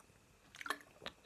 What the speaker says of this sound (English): let me just get a drink of my water